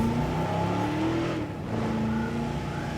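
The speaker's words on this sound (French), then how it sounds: "Le mode de pilotage de la voiture est vraiment génial." An in-game car in Jurassic World Evolution drives with a continuous revving engine hum that shifts pitch, briefly dipping midway before picking back up, loud and steady without speech.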